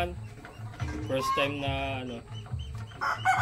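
Caged hens in a Filipino backyard poultry setup cluck repeatedly at close range, with a longer drawn-out squawk in the middle and other birds chattering faintly behind.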